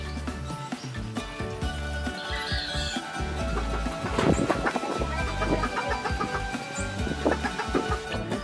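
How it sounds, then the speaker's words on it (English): Free-range chickens in a rural yard in Laiya, San Juan, Batangas cluck and squawk at moderate loudness, with several birds overlapping amid steady outdoor background noise. "This is free range organic chicken."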